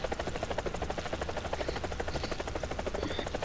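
A helicopter in the War Thunder video game flies with a steady, rapid rotor chop that pulses evenly throughout, fairly faint and heard alone without talk.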